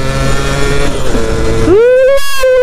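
A stock motorcycle with standard ignition, ridden and heard up close with a loud, buzzing engine note that drops off and then climbs in pitch as the throttle opens.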